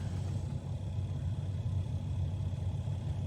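A truck's engine rumbles low and steady from inside the cab on a lakeside drive in South Haven, Michigan, a constant deep drone with no talking over it.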